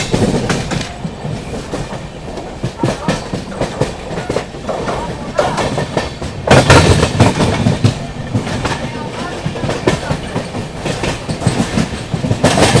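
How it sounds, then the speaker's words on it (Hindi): The 12615 Grand Trunk Express between Chennai and New Delhi runs on the tracks with a continuous rumble and rhythmic clickety-clack of wheels over rail joints, heard loudly from inside the train with faint voices. "ट्रैक साउंड आ रहा है"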